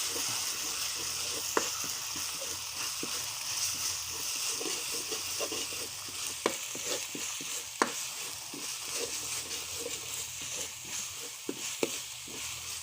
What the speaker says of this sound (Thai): น้ำมันร้อนแล้วครับ ใส่เครื่องแกงที่เก่า ผัดให้หอมนะครับ